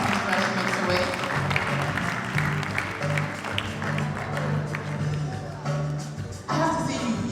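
Audience applause at a brand ambassador stage event, a steady wash of clapping from a crowd that runs throughout, with music or background sound underneath.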